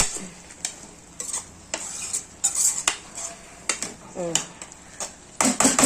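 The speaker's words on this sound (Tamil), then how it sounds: "இப்போ வந்து மிளகாத்தூள் போட்டு நல்லா எண்ணெயில் வதக்கிக்கோங்க." Chili powder masala sautéing in oil in a pan for a prawn curry, with a metal spoon scraping and clinking against the pan in irregular strokes over a soft sizzle, close up, with some talk.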